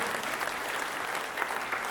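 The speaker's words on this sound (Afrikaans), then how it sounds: "Kom ons gee vir 'n hande klap aan ons gaste, baie welkom." Audience claps for arriving guests, a brisk, moderately loud patter of many hands that stays steady for the full moment without cheering.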